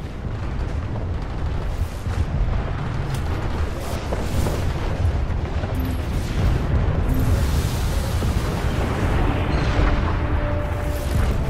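Tanks fire in the Planetside 2 battle game, a Prowler among them, with dense overlapping booms and blasts over a constant rumble of battle noise, loud and sustained, and no talking.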